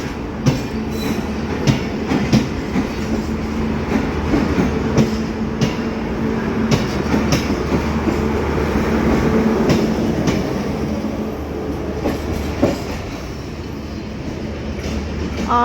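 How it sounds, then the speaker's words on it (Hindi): Rumbling train cars of the Bahauddin Zakaria Express at Samasata Junction station, a loud continuous rolling roar with rhythmic wheel clacks and a faint screech, close by and steady throughout. "इसके पीछे ही खड़ी थी बहाउद्दीन ज़िक्री एक्सप्रेस समासट्टा स्टेशन पे।"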